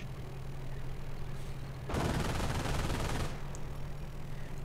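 A quad .50 caliber machine gun in a video game fires one sustained burst of about a second and a half, loud and dense against a low background hum.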